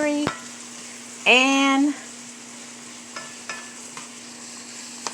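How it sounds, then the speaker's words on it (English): Onions, celery and garlic fry in olive oil in a pan, giving a steady low sizzle with a louder burst of hissing in the middle and a few light clicks, while a voice speaks briefly. "And it's cooking in the pan here with like maybe 3 to 4 tablespoons of the olive oil."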